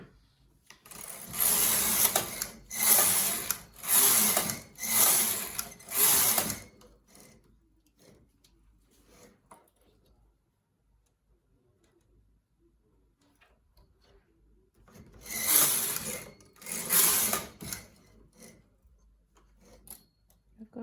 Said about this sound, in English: I'm going to knit 10 rows before I begin